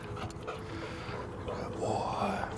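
A big office-mascot dog at a law firm pants and whimpers softly and close by, a steady breathy rhythm with a rising whine near the end, while people talk quietly in the background.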